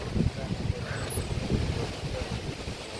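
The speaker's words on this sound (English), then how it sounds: "look how windy it is" Strong gusting wind buffets the microphone during a severe thunderstorm, a steady low roar with rumbling surges throughout, loud and close, with no speech over it.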